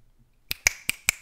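Four crisp finger snaps ring out in quick succession, close and loud, after a moment of near silence.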